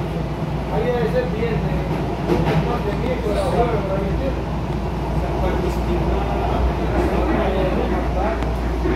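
A Miami Metrorail Green Line train runs between Government Center and Northside, heard from inside the car as a steady rolling rumble with rhythmic wheel clatter and an even mechanical hum throughout.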